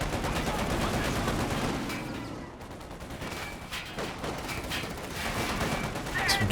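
An M20 armored car's machine gun firing in Company of Heroes 2, continuous rattling bursts of gunfire mixed with battle noise, fairly quiet and steady throughout.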